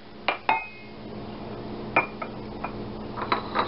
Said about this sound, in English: We stir that in